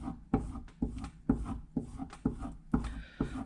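A carving gouge is sharpened by hand on a stone, giving repeated close rasping strokes about every half second, each a short gritty rub, with a slightly brighter scraping pass near the end.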